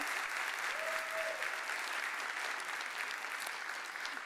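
Warm audience applause at the INFLOW Global Summit, heard as a steady, distant wash of many hands clapping, fairly faint and even throughout with no voices standing out.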